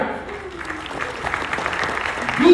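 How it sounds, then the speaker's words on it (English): Audience at a business conference clapping for themselves: a broad, moderately loud wash of applause with a faint voice beneath it, swelling slightly toward the end. "Now clap for yourself."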